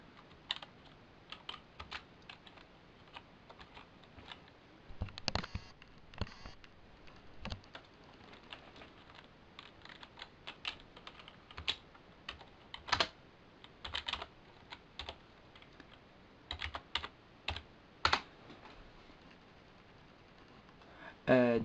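Typing on a computer keyboard, quiet irregular clicks and taps in short bursts, close by, with a voice speaking now and then.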